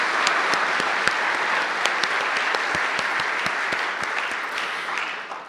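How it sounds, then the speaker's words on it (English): An audience claps warmly for supporters at an evening talk, a dense, sustained round of many hands with individual sharp claps standing out, easing slightly at the end. "Could we have a round of applause for all of our supporters and for you?"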